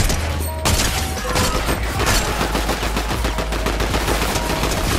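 Rapid bursts of automatic gunfire from a Fortnite ranked match crackle loudly and continuously, dense overlapping shots filling the whole stretch with no talk over them.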